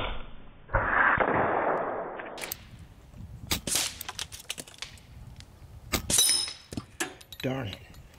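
An Evanix Cloud Ultra .30 caliber semi-automatic airgun fired in rapid succession at a 9-volt battery target, sharp close snapping shots with metallic pings and clinks of impacts, a brief hiss, and someone speaking between shots.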